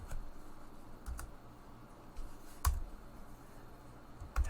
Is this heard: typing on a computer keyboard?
yes